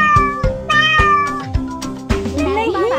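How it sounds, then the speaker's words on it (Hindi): A cartoon cat in a Hindi children's nursery rhyme meows several times in quick succession, bright and close, ending in a longer wavering yowl, with no talk over it. "ये बिल्ली की आवाज है।"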